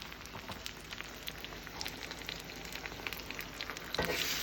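A soft, steady crackling sizzle of beaten eggs poured into a hot pan for a frittata, faint and continuous with occasional pops.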